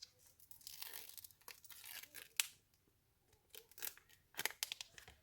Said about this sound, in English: And then you pull off this sticker piece here.